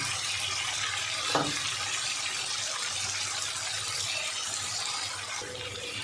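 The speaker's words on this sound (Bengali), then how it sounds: "দিয়ে আর একটু জল দেবো। জল দিয়ে ভালো করে কষাবো মশলাটা।" Water pours into a paste of ground cashew, charmagaz and spices in a pan, a steady close trickling gush with a brief clink early on, no voices.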